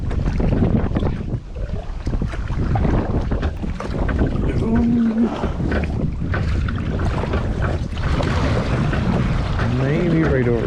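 Steady wind buffets the microphone while a boat is paddled on a lake along the east side of an island in a state park, a continuous loud rush with light water sounds throughout.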